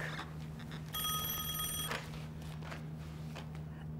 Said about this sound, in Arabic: هرد على التليفون